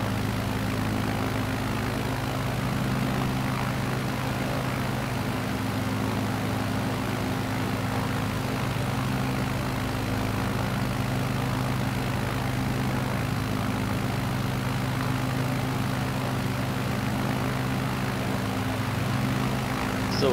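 Aircraft engine in flight in Microsoft Flight Simulator: a constant, even drone with a steady low hum running unbroken for about twenty seconds, fairly loud, with no voices.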